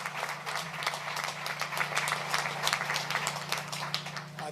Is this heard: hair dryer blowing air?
no